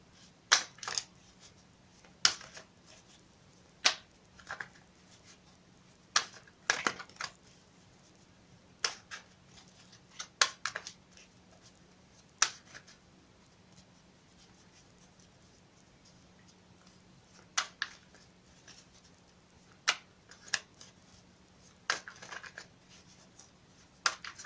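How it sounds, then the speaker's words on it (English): Sparse, sharp clicks and soft riffling taps of tarot cards being handled and shuffled, scattered irregularly over a quiet background with a faint steady hum. "I've already pre-shuffled the cards, but I'm going to shuffle them again for you on camera"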